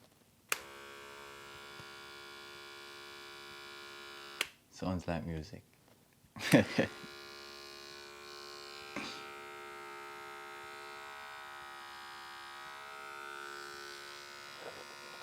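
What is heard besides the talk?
Andis Envy Li cordless hair clipper running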